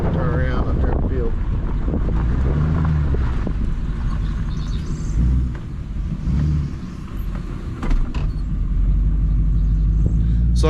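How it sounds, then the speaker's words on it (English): A work truck with a recent transmission issue drives up a farm levee near a field, a steady low engine rumble with heavy wind buffeting the microphone, while someone talks over it. "Drive up the levee here so I can turn around up there in the field."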